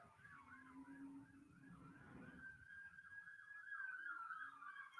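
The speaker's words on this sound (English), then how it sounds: "y'all hear them police sirens?" A wailing police siren sounds from a distance, its pitch sweeping up and down over low traffic rumble.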